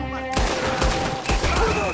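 Dense gunfire in the Red Dead Redemption 2 video game, a loud, continuous volley of overlapping shots with game sounds behind.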